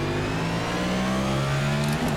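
A NASCAR race car engine in iRacing revs hard at a race start at Richmond Raceway. Tires spin with it. The engine holds a loud, steady, buzzing drone with other cars droning alongside.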